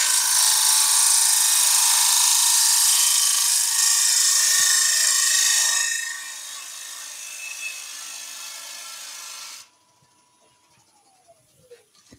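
A lathe spins a green oak bowl while a gouge cuts it, giving a steady, loud hissing shave that eases partway through and then stops as the tool lifts off, leaving a faint whine winding down.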